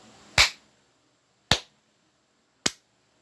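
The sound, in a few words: imitated clapping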